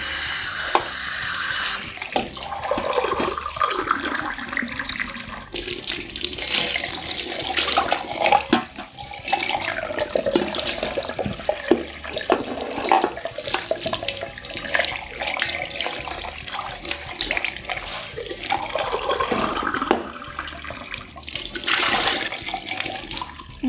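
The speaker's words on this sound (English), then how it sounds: "Now let's rinse the cup." A cup being rinsed under a running kitchen tap, with a steady rush of water broken by splashing and shifting flow as the cup moves beneath the stream, continuous and close.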